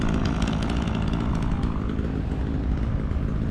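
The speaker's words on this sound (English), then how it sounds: "They're doing wood carvings with a chainsaw." A chainsaw carving wood at a Hammer In & Plow Days event drones steadily at a distance, its engine buzz rising and falling slightly, with no speech over it.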